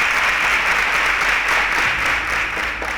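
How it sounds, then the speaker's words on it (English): A studio audience claps for student contestants on the Nigerian science quiz show InterswitchSPAK after a correct answer: loud, steady group applause with a constant background hum, tapering a little at the close. "A round of applause for them."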